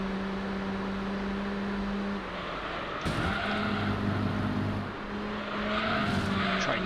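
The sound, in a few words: Mazda RX-7 race car in video game Gran Turismo 3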